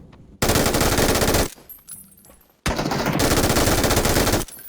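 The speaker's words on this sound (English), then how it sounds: "And I go on the chase with an MG3 on full 990." An MG3 machine gun in PUBG fires full auto in two long, loud sustained bursts of rapid shots, separated by a short pause with faint background sound.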